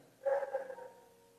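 A single faint dog bark sounds at a distance in a church during a Sunday sermon, a short muffled yelp that trails off into quiet room noise.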